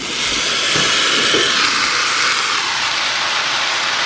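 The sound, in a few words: canned kidney beans added to a hot sizzling pan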